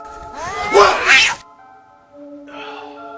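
A cat yowls in a loud, close caterwaul with a rising, wavering pitch, followed by a short pause and a second, fainter drawn-out meow.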